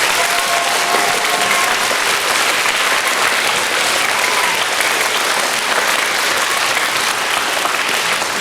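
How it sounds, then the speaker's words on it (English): A large audience at a school staff award ceremony gives a dense, sustained round of applause, loud and steady throughout with no talking. "If you will please give them a big round of applause."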